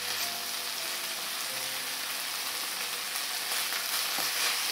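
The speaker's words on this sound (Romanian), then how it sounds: "Mai lăsăm puțin fără capac să se mai călească așa puțin" Pork neck and potatoes frying in an uncovered pan, a steady, dense sizzle and crackle that continues unbroken and fairly loud at close range, with no talk.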